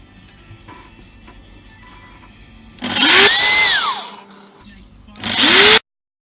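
Power drill boring a bolt hole through the bottom edge of a bespoke subframe on a GSXR 1000 streetfighter build: two loud close bursts of whining, rising drill speed separated by a short pause, after quiet workshop background.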